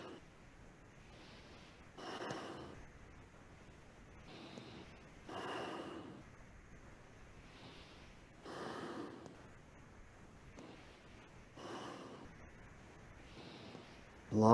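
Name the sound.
long deep breathing during Kundalini yoga kriya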